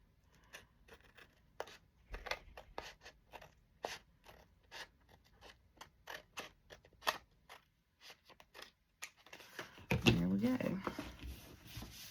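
Scissors cut paper while a Christmas treat bag is decorated for a journal, giving a series of quiet, close snips in an uneven rhythm, followed by louder rustling and crinkling of handled paper at the end.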